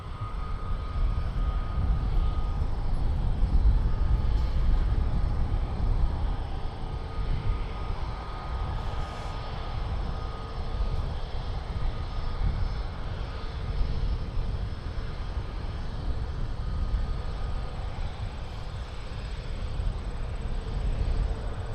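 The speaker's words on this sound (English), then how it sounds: "Avianca to San Salvador, A330 Neo, flight 627. We're going to see that in just a moment. Departing here." An Avianca Airbus A330neo airliner departs a runway at Toronto Pearson, its engines making a broad, continuous roar that holds steady and loud at a distance for the whole stretch, with no talking.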